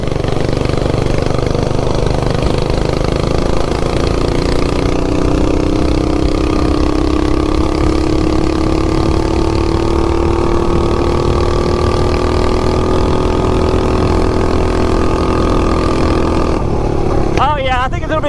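A 420cc minibike engine with a ported head and raised compression runs hard at a steady road speed, its loud buzzing drone slowly climbing in pitch before a sudden change near the end.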